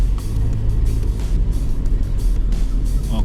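A manual Suzuki Jimny JB74 accelerating off-road, its engine a loud, close, sustained drone with a rough, rumbling low end and steady throttle throughout.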